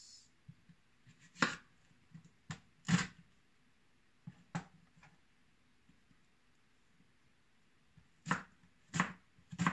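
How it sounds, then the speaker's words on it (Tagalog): A knife chops onion on a cutting board in a home kitchen, giving sparse, sharp, close taps at uneven intervals with quiet gaps between them. "maghihiwa tayo ng sibuyas"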